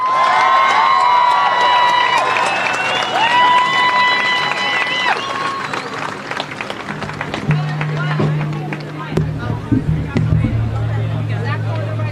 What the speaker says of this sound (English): join me, please, in giving a warm round of applause to Congress people Rashida Tlaib and Cori Bu